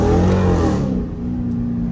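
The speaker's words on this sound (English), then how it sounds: "Let me see if my car warm enough yet." A Dodge Scat Pack car engine revs hard and loud up close, a deep roaring burst that swells and then settles back to a lower rumble within two seconds.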